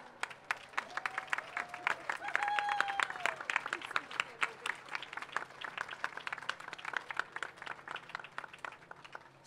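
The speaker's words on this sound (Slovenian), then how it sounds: "še prej pa en velik aplavz" An outdoor crowd at a pro-life march in Ljubljana breaks into dense, sustained applause, many hands clapping at once with some cheering, heard from a moderate distance.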